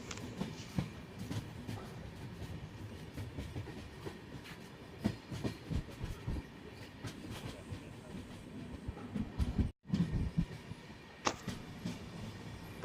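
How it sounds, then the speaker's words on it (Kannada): The Rani Chennamma Express rolls into Pachchapura station, its carriages rattling with steady clickety-clack and a faint wheel squeal, heard from on board as a continuous rumble. "ನಮ್ಮ ಟ್ರೈನ್ ಈಗ ಪಚ್ಚಾಪುರ ರೈಲ್ವೆ ಸ್ಟೇಷನ್ಗೆ ಎಂಟ್ರಿ ಆಗ್ತಿದೆ"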